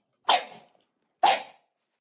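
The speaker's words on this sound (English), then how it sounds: "Good dog." A dog named Bella Lugosi gives two short, sharp barks about a second apart, close by and loud, with silence between and after them.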